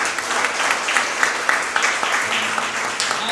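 A church congregation claps together during a worship service, a lively, close burst of many hands with some sharper individual claps standing out, sustained for several seconds.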